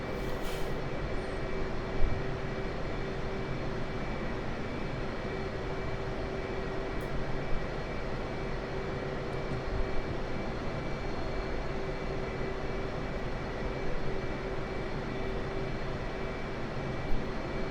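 Steady, loud roar of a military jet on the runway at Nellis, a broad engine rumble with a constant whine running unbroken throughout, no voices.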